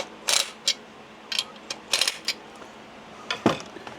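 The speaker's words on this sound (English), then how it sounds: "I'm gonna bolt this muffler together." Tool tightening bolts on the muffler of a Holzfforma Farmertec G366 chainsaw, a STIHL MS361 clone: a few short sharp metallic ratchet bursts and clicks, close and alone.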